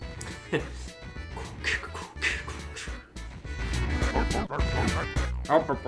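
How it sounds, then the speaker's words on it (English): Several short yips and barks from a dog in the video game Klonoa: Door to Phantomile mix with a person talking and some background music. "He's barking, so."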